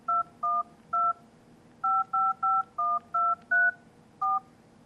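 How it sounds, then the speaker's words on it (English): Keypad tones from a Nokia 5800 XpressMusic phone as a number is dialed, about eleven crisp, evenly loud beeps in an uneven rhythm, heard close and clear with no talking. "So if we just dial a random number,"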